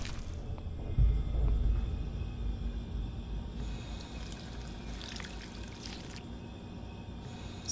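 Running water in the Fallout 4 VR game, a steady close splashing pour with a heavier gush early on, settling into a continuous trickle.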